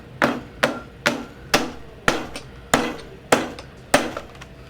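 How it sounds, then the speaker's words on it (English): A hammer drives a nail into wood during saddle making, landing eight sharp, evenly spaced blows at a steady rhythm. Each strike is close, crisp and clear, with nobody talking. "so I can get in there with a hammer and"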